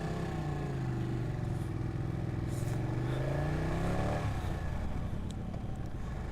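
A Ducati 959 Panigale sport motorcycle engine revs and accelerates, with sweeping rising pitch through gears, loud and close, then a shift and continued engine roar with almost no talk.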